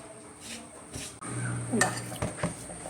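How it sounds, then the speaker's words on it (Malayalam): Ragi flour, mashed banana and a ground coconut, jaggery and cumin mixture being stirred together in a bowl, a close spoon-scraping with soft wet clinks and splats in short irregular strokes, no talking. "ഇളക്കാവേ"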